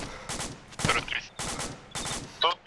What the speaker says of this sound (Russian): Это не водник, это пушка.